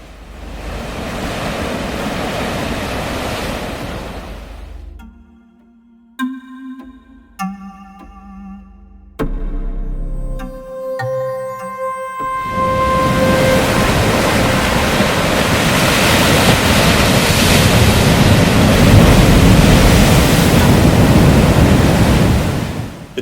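Turbulent sea surf crashes on the Loch Ewe coast with loud, wind-buffeted roaring. Partway through it gives way to a short stretch of quiet piano notes before the heavy wave noise returns.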